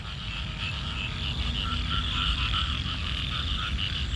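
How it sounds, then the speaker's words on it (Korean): Frogs croak continuously near Ayutthaya, Thailand, in a loud, pulsing chorus, with rapid repeated calls layered over a steady low background hum. "개구리야?"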